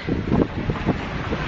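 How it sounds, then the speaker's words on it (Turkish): Strong wind in snowy weather in Russia buffets the microphone in gusty, low rumbling bursts with no voices. "Çok rüzgar esiyor."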